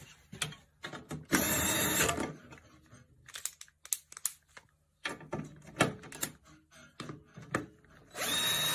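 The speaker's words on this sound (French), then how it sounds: "Je remets bien toutes les vis, tous les boulons pour être plus précis." Power drill driving screws and bolts back in while reinstalling a Bohème trunk in a camper van, with bursts of whirring in several runs separated by clicks and handling noises, close and fairly loud.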